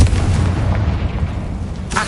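Confringo fire spell being cast in Hogwarts Legacy on PS5, a continuous booming, rumbling blast that holds steady throughout, loud and close, with a sharper burst right at the end.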